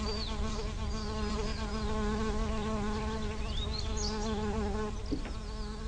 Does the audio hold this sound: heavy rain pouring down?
no